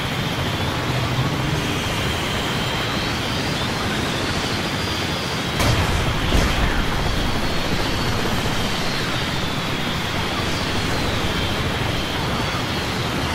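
Orca aircraft flying in the video game Renegade X, a steady, loud engine roar and whine holding evenly throughout, with a brief swell partway through.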